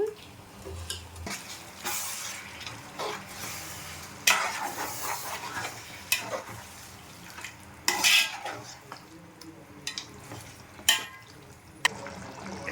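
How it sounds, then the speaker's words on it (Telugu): Chicken liver with tomatoes and onions cooking in oil for a mango curry, steady frying sizzle with repeated metal spoon scrapes and clinks against the pot at irregular intervals, close by. "సో ఆయిల్లో బాగా ఉడుకుతూ ఉంది చికెను."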